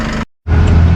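A Massey Ferguson 1E.40 Essential compact tractor engine runs at full throttle, a loud, close, steady roar broken by a brief moment of silence before it surges back.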